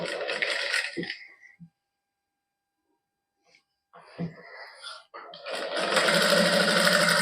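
A sewing machine runs in bursts while stitching lining onto a kameez, loud and close, pausing into near silence midway before resuming steadily at length.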